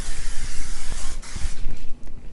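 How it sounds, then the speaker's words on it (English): A close, loud hiss of cooking spray onto a non-stick sheet tray in a few sustained bursts with brief gaps, plus faint clinks of the metal tray. "I spray it with the cooking spray."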